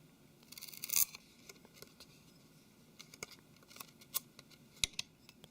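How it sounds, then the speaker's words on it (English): Small scissors snip adhesive tape to cut openings for the sensors, LED and camera during a Galaxy Note 3 screen replacement, giving faint, sparse, crisp clicks and snips close by in a quiet room, with no talk. "make sure that you cut holes around for the LED, sensors and the camera"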